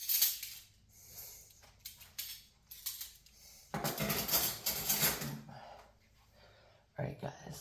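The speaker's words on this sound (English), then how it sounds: "we have to get out the silverware first" Silverware and dishes handled at home: scattered metallic clinks and clatters come in bursts, with a louder run of clattering midway, under nearby voices.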